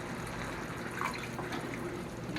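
Kitchen tap water runs steadily during washing up while nachos are being cooked, a close, even hiss of splashing water with no break.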